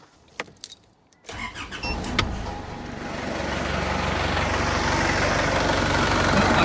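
A Holden Rodeo in neutral: keys jangle in the ignition, then the engine cranks and catches, settling into a steady, close idle that grows slightly louder and fuller as it runs.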